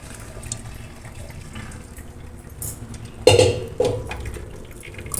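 Hot water is drained off boiled brinjal, soybean and potato, giving soft trickling that breaks into two loud splashy gushes near the end.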